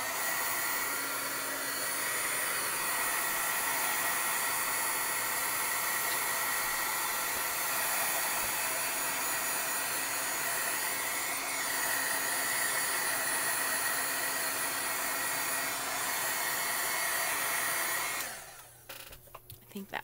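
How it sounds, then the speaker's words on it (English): A heat tool blows hot air to dry VersaFine ink on a cardstock panel, giving a loud, steady rushing hiss up close that cuts off abruptly near the end. "I'm just going to hit it with the heat tool real quick just to make sure my VersaFine is nice and dry."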